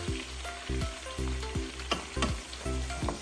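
Cabbage and ham fry in a hot pot with a loud continuous sizzle, as a spoon scrapes and stirs in a regular rhythm of about two strokes per second, close up and with no voices.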